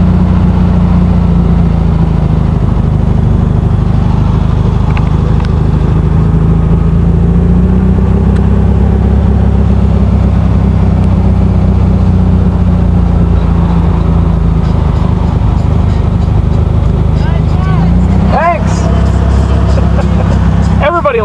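Air-cooled engine of a 1971 VW Beetle idling steadily with a low throbbing rumble, then briefly revving near the end, close and loud, with someone talking over it.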